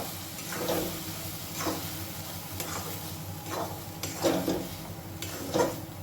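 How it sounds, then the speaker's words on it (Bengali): Soybean paste is stirred and fried in a pan over a low gas flame. A steady soft sizzle runs throughout, with periodic scraping strokes of a utensil against the pan, close and moderately quiet, and no talking. "এবারে গ্যাসের ফ্লেমটাকে একদম লোতে রেখে খুব ভালো করে নাড়াচাড়া করে এটা কিন্তু ভেজে নিতে হবে"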